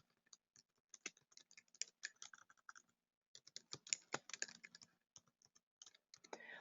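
Quick bursts of key clicks typing a quiz question on a computer keyboard, very faint and close, two runs of irregular keystrokes split by a short pause, with no talk.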